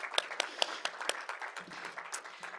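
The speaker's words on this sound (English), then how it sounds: "So round of applause for her." Applause from an audience at a National Poetry Month event honoring a creative writing contest winner: soft, fairly quiet clapping with a few sharper claps standing out early, then thinning into looser, scattered claps.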